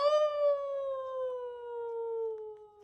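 A single long, wavering howl, made by a person's voice imitating a wolf calling at the moon, slowly falling in pitch over about three seconds, close and clear.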